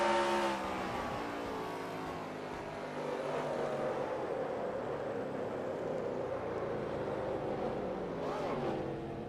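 A stock car engine in a racing video game drones steadily as the car spins out, its pitch sweeping and wavering throughout, with a commentator's voice running over it.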